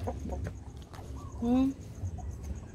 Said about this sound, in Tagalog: Hello, beautiful chicken.